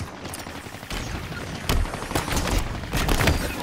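Rapid automatic gunfire from the Halo Infinite video game, dense bursts of shots with sharper louder volleys near the middle and end, steady and close throughout with no talking.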